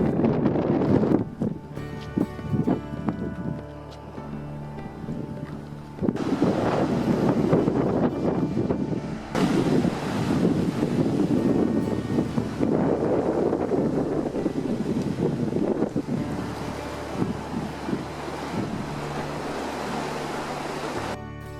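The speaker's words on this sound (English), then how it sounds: "Big view of the harbor." Strong wind buffets the microphone over Marsaxlokk harbor in Malta, with waves and surf washing below the hill; a loud, continuous roar with gusty surges and no voices.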